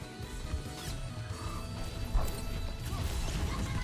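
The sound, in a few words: Reinhardt Earthshatter in Overwatch 2 video game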